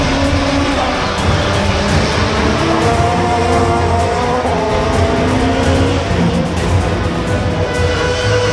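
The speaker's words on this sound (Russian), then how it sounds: "Отсюда выезжали автомобили и летели на все скорости в сторону" A 1990s Honda supertouring race car is driven flat out on a street course at Sparrow Hills in Moscow, its engine a loud, sustained, high-revving roar with shifting pitch and no pauses.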